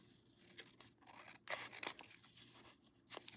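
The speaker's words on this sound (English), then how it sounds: "Let me cut some of the bulk off of this." Scissors cutting paper at a craft table: a few crisp snips and rustling slices, close and fairly quiet, with no talk.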